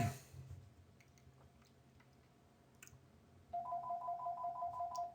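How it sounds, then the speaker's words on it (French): Mobile phone ringtone chiming in a repeating electronic pattern, starting partway through and continuing to the end, fairly clear over a quiet indoor background during a chess game. "il y a mon téléphone qui va sonner, je vais le laisser sonner"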